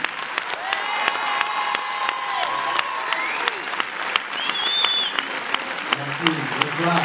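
A cinema audience at the Paris premiere of the film Samba claps and cheers for the cast, including Omar Sy, with a dense, sustained wash of applause, sharp individual claps and a few whistles, and voices joining near the end.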